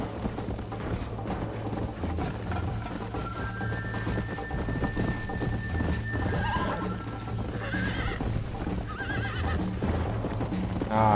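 Horse galloping in a race in Red Dead Redemption, a fast dense run of hoofbeats with neighs near the end, loud and steady throughout.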